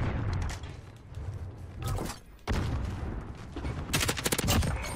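Dense gunfire and explosions from the Modern Warfare video game in Cranked mode, with rapid overlapping shots and booms throughout, a brief lull near the middle before heavy firing resumes louder.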